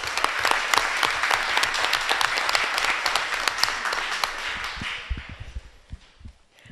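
An audience fills two or three rows at a school board meeting, applauding a fifth-grade Student of the Month award winner. The clapping is steady and dense for about five seconds, then thins into scattered claps and fades.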